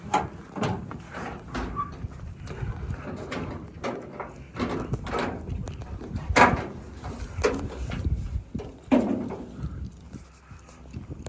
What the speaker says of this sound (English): Pull these doors open.